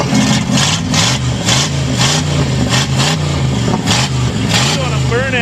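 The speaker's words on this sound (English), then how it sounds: "Doing a burnout." A Buick fitted with a small-block Chevy V8 and no exhaust roars loudly and steadily during a burnout, its engine note pulsing and surging throughout, with voices audible under the noise.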